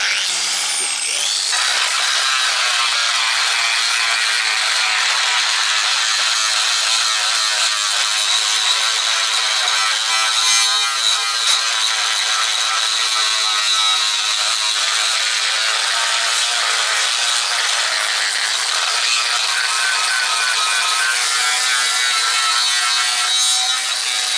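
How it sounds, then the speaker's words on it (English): An angle grinder fitted with new discs strips coating off the surface of a Rover Mini Cabriolet body during restoration, giving a loud, continuous, high-pitched grinding roar that runs unbroken from start to finish, close up. "fire the grinder up and we'll have a look"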